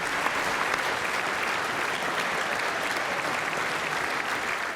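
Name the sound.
applause at Trump's State of the Union speech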